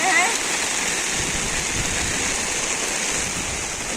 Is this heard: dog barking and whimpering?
no